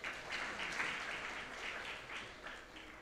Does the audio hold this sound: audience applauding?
yes